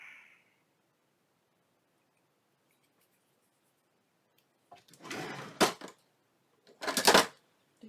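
Two short, close bursts of scissors snipping through material during a cigar box craft alteration, separated by a brief pause, with no talking.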